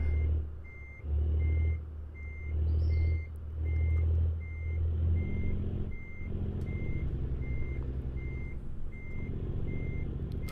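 A truck in American Truck Simulator backs up with a steady, evenly spaced reversing beep over a low rumbling diesel idle that surges and settles.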